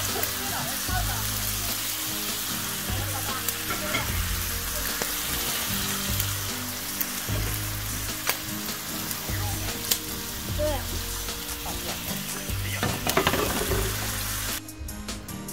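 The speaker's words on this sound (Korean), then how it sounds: "드디어 뒤집었습니다. 어우, 노릇노릇하게 달궈지네요." Meat sizzling on a backyard barbecue grill just after being flipped, a dense continuous crackling sizzle close by, with faint voices now and then underneath.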